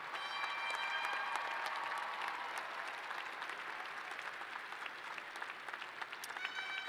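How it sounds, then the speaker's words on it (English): Sustained applause from a large audience at a Ball State University fall commencement ceremony, a steady dense wash of clapping filling the hall throughout. "please join me in a round of applause for all of your family and friends who are here with us today"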